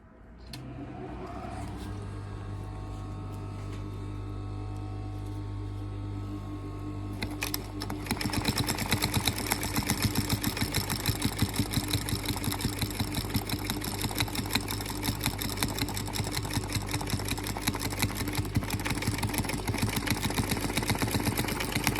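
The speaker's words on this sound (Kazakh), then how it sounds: "Сіздердің көздерінше тігейін." Sewing machine stitching a soft felt box: a low hum for several seconds, then a loud, steady rapid mechanical rattle of needle strokes that continues to the end, up close with no speech.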